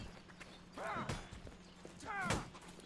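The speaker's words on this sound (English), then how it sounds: "Gotta watch out for the horse though." Horse hooves in a video game thud faintly and irregularly under background game noise, along with a couple of short whinny-like sounds and no clear talking.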